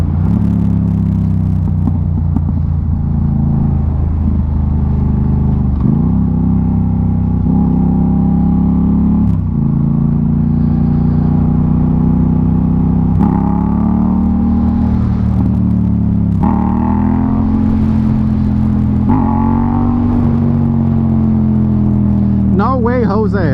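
Motorcycle engine revving and rising through gears in a wheelie attempt on a road ride, a steady loud rumble with surges, under wind noise and a rider talking.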